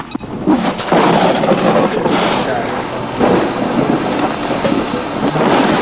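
Heavy rumbling video game thunderstorm, from XCOM Long War, with steady rain hiss, loud and continuous, a deep crash rolling in early on.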